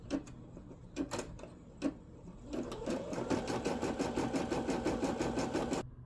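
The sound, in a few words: Brother M380D embroidery machine running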